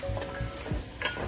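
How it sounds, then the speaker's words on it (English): Couscous is stirred in a hot pan over lowered heat, a soft, low hiss with a few dull scraping strokes, brief and fairly quiet, with no talking. "Stir and let it all mix in there."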